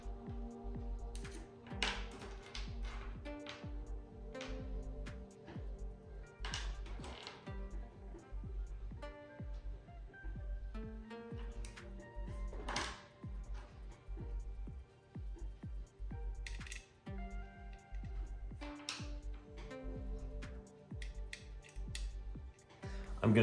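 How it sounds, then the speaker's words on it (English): Small screwdriver backing out four Torx 4 screws from the motherboard of a 2021 MacBook Pro 16 M1 Pro, heard as close, crisp ticks and clicks in an irregular rhythm over a steady low hum. "I'm gonna go ahead and disconnect these four screws."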